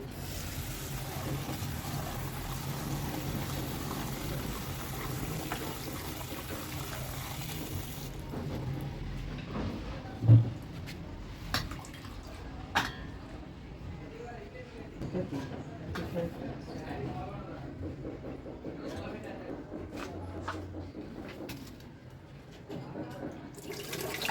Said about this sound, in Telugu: ఇంకోసారి కడుగుతున్నాను చిక్కుడుకాయలు